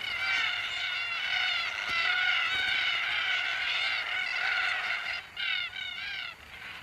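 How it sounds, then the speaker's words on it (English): A flock of red-tailed black cockatoos gives repeated harsh, grating calls in overlapping bursts, loud and continuous near peanut fields, with a few separate calls toward the end. "Red-tailed black cockatoos join in the fun."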